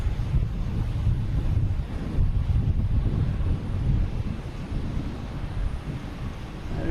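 An American Airlines plane taking off from Boston Logan Airport makes a steady, low, rumbling roar at a distance, with wind buffeting the microphone throughout and no talking.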